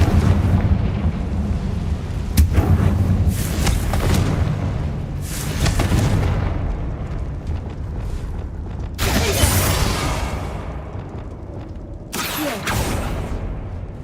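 A Confringo spell exploding against barricades in the video game Hogwarts Legacy: several loud, sharp blasts with rumbling tails, spaced a few seconds apart over a steady low background.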